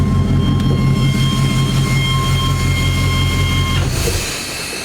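A 1959 Chevy Apache truck engine idles with a steady low rumble and a faint high whine, then is switched off near the end, the drone stopping abruptly and fading into quiet.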